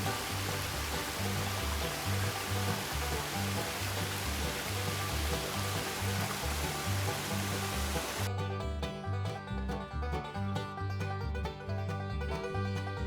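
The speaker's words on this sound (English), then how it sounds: "Looking at this amazing waterfall" A waterfall on the Appalachian Trail between Hot Springs and Spivey Gap gives a loud, steady, dense rush of falling water with no voices. The roar thins and changes character abruptly about two-thirds of the way through.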